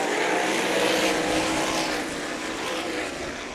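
Race cars thunder around Meridian Speedway in a four-car battle for the win, a loud continuous engine roar that swells and eases slightly as the pack passes close by.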